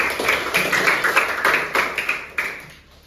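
A classroom group applauds with steady, fairly close clapping from several hands, bright and loud at first and then thinning out toward the end.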